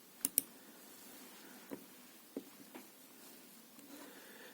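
A computer mouse clicks the Next button during a BitLocker setup, giving a few sharp, separate clicks spaced irregularly across a quiet background.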